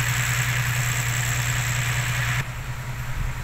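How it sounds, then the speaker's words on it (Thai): A farm tractor arriving on a rural road, its engine running with a steady low idling hum and drone at moderate distance, dropping slightly in level partway through. "โอ้นู่นรถไถมาแล้ว"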